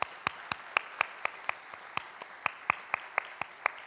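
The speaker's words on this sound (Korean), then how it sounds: "저희가 박수로 환영하고 또 미리 축하하도록 하겠습니다" A church congregation at a Sunday service at Hangang Church applauds to welcome elders; sharp, evenly spaced claps in a steady rhythm, fairly soft and distant in a quiet room.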